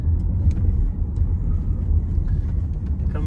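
Race car at Anderson Speedway pulling off into the pits behind the pace car, a steady low engine rumble droning close and loud throughout, no talking.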